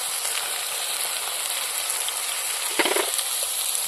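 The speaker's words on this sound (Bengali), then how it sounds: "এখন আমি ভালো করে মশলাগুলো কষিয়ে নেব" Onion, ginger-garlic and cumin paste with chili, pepper, salt and turmeric frying in a pan for a village-style bottle gourd curry: a steady close sizzle, with a brief louder scrape and spatter of stirring near the end.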